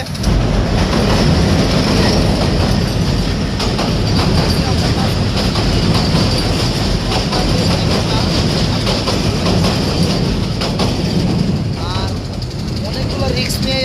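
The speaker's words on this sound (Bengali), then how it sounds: "এই ব্রিজ দিয়ে কিন্তু একটা ট্রেন চলমান এখন আমাদের সামনে দিয়ে চলে যাবে" A train rumbles across a bridge overhead, loud and close, with a continuous roar and rhythmic clattering of wheels on rails that holds steady throughout before easing slightly near the end.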